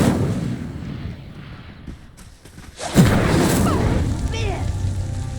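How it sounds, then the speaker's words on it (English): Incendio fire spell igniting a pyre in Hogwarts Legacy: a low rumbling ambience dips, then a sudden booming whoosh bursts out and settles into a steady roaring crackle of flame. "The flames make the pyre sink."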